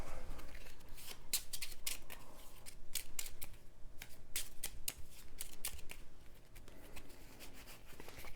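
A deck of cards for a board game is shuffled in a quiet room, with repeated crisp riffles and snaps coming in bursts close to the mic.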